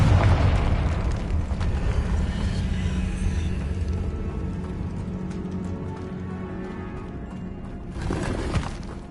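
A Confringo spell explodes in Hogwarts Legacy with a heavy, booming blast that rumbles and slowly decays, followed by a softer second burst near the end, with no voices.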